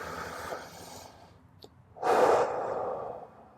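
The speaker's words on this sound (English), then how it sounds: "Good deep breaths." Deep breaths are taken during a low back stretch in a boxing workout, starting with a soft, close exhale, then a short pause, then a louder breath that trails off slowly.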